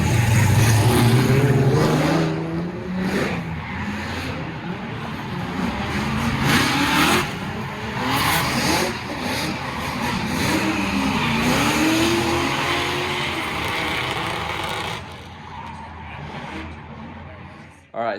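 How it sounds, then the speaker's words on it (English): A drift car at an LA auto show demo, part of a Formula Drift 150th anniversary event, revs hard and slides with long tire squeals and engine swells that rise and fall, loud and continuous, with people talking underneath. "you guys got to see some super cool drifting today"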